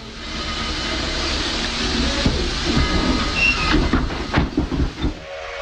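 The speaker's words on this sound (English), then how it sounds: "Despite a high green, the train stops for a photo run-by at Rockwood" A steam train stopping for a photo run-by at Rockwood, Tennessee, heard as loud continuous hissing steam with rumbling and clanking toward the end.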